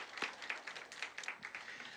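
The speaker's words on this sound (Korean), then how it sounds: "우리 박수 한번, 네, 응원의 박수 한번 해주시기 바랍니다" A church congregation at a Sunday service claps in encouragement. The applause is fairly light and uneven, with distinct claps standing out from a thin background.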